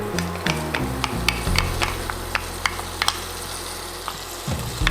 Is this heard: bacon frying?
yes